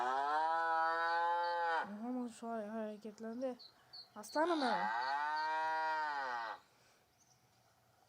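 Cattle lowing on a farm in a driving video game: two long, loud drawn-out moos, one at the start and one after a short pause, with someone talking briefly between them.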